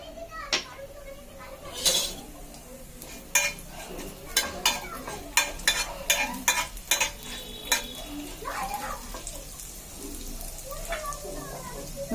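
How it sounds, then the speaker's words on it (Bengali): Whole cumin seeds frying in hot white oil in a pan, with sharp clatter and scrape of stirring and utensil knocks in irregular bursts over a steady sizzle. "গোটা জিরে আর কাঁচা লঙ্কাটা আগে একটু ভেজে নেবো।"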